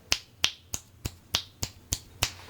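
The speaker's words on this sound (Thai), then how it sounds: "จะลองดีดนิ้วดูนะ" Eight crisp finger snaps captured from behind a DEITY V-Mic D4 Duo camera-top microphone, evenly spaced about a third of a second apart, sharp and close against a quiet background.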